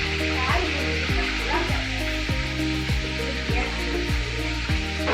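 Food sizzles and fries steadily in a pan in a home kitchen while someone cooks, a dense continuous hiss with repeated rhythmic scraping or stirring strokes throughout, loud and close, with no one speaking.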